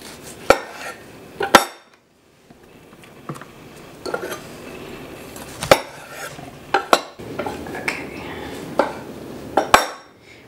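A knife slicing potatoes in half, sharp clacks of the blade hitting a cutting board in irregular close bursts with light rustling between cuts.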